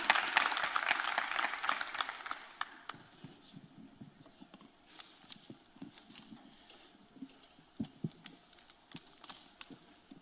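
An audience at a Miami-Dade judicial candidate forum breaks into a loud burst of applause that tapers off within a few seconds, leaving scattered lingering claps.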